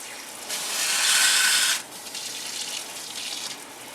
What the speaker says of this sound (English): I believe the hot water coming out of here is about